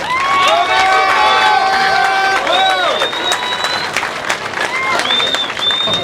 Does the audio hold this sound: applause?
yes